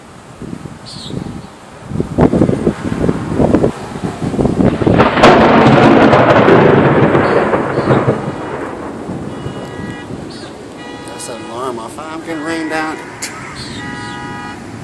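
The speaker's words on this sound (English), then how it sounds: "It's starting to rain out." A thunderstorm rolls in over Morris, Illinois as rain starts to fall. A loud, drawn-out rumble of thunder swells and fades over several seconds above a steady outdoor wash, with a brief voice or horn-like tone later.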